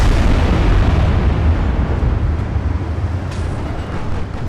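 Heavy naval gunfire from a battleship's HE shells in Ultimate Admiral Dreadnoughts, a loud, close, booming rumble that slowly fades, with a brief sharper burst near the end.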